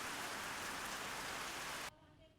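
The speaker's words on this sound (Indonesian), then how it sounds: "Hujan deras disertai angin puting beliung menerjang pemukiman warga di Buleleng" Heavy rain pours steadily during a tornado storm in Buleleng, Bali, a dense unbroken hiss that cuts off abruptly near the end, leaving a quiet tail.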